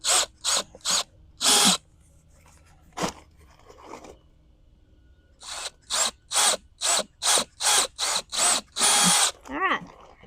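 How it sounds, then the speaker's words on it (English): A power drill whirs in short, sharp bursts, starting and stopping repeatedly, with a crunching grind as it bites through a flower pot, close by. "Drill a hole"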